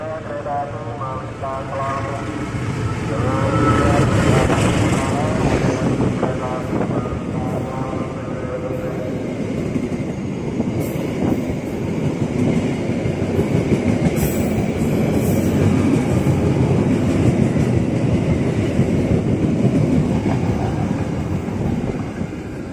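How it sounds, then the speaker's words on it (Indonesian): The Argo Parahyangan train rumbles steadily through Manggarai station on track 3 without stopping, wheels clattering and squealing on the rails for a long stretch, loud and close, with a voice faintly underneath. "Kita lihat dulu nih, ada kereta yang melintas langsung."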